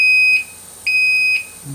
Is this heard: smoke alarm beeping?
yes